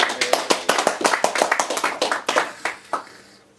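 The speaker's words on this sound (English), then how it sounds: "give them a round of applause" A quiz-night audience claps in a brisk burst of applause for a team, with dense overlapping hand claps that stay loud and steady before thinning out and trailing off near the end.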